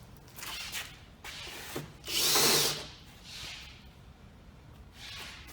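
Power driver with a T40 Torx bit backing out stock fender bolts on a Polaris RZR UTV, a few short whirring bursts with one louder, longer run in the middle.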